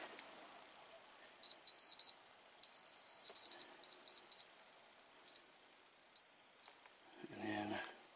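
A multimeter beeps in short, bright tones while it checks a 5 amp fuse for continuity during awning troubleshooting. Some beeps are clipped, others are held for longer, all in a quiet room, and a faint rustle follows at the end.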